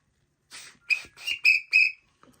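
A pet bird whistles a short series of five bright, clear notes, rising and sustained, close and fairly loud against a quiet room, with a faint chirp at the end.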